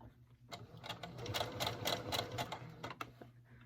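A sewing machine stitching an appliqué on fabric: a quiet, rapid mechanical clatter of needle strokes in short bursts, speeding up and pausing, close and fairly soft.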